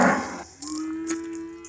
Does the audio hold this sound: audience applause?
no